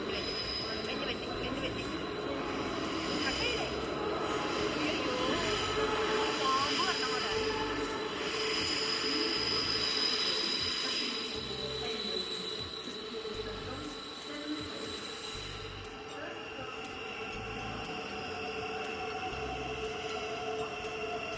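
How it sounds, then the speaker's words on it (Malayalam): A train arrives at a UK station with a low rumble and steady wheel-and-rail noise that slowly fades, and a voice speaks quietly over it. "ആ കാണുന്നതാണ് ട്രെയിൻ കേട്ടോ."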